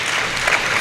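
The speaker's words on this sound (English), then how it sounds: "I thought we'd give her a round of applause for that" Listeners at a university lecture give a round of applause, a short burst of close, dense clapping from many hands.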